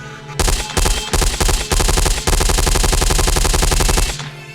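Loud automatic gunfire rips out in several sharp bursts of rapid fire, broken by brief gaps, then one long sustained volley before it cuts off, a staged firefight effect in an audio drama.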